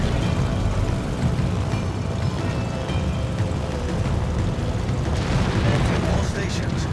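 Naval gunfire aimed at an enemy warship in World of Warships, heard as a dense, continuous roar of heavy booms and rumbling blasts that stays loud throughout without clear gaps.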